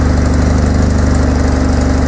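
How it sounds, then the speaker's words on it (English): Dune buggy engine running rough, a loud steady mechanical drone with a fast chugging pulse, close by and unbroken, with no voices over it. "I can't get her to go. I'm fighting it with the revs and everything."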